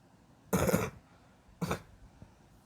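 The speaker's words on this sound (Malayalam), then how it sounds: "ചുമയാണ് ഗൈസ്." Two close, forceful coughs: a longer harsh burst, a short pause, then a briefer second cough, with no talking around them.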